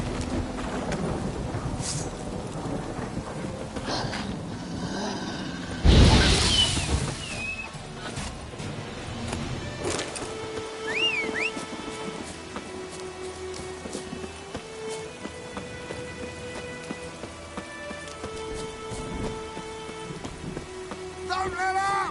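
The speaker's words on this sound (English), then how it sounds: "A storm." Thunderstorm in the video game Witcher 3: steady rain patters throughout while a loud thunder crack bursts early on, followed by rumbling and scattered game sounds.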